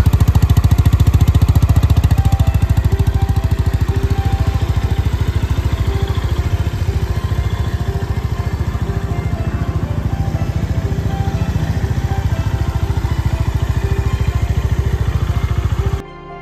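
A freshly serviced motorcycle engine idles close and loud, its steady thumping beat running evenly for the whole stretch before cutting off abruptly at the end.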